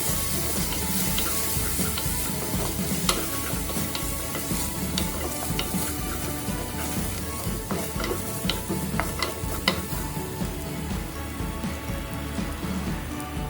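Sliced garlic and four split green chillies sizzle steadily in hot oil in a pan while being stirred, a continuous loud frying hiss with scattered pops and spatters, no talking.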